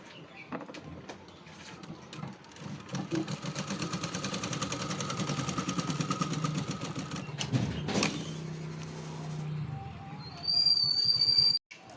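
Domestic sewing machine stitching a seam along a folded blouse piece, a steady rapid mechanical whir of medium loudness lasting several seconds, then stopping, followed by clicks and a brief higher whine.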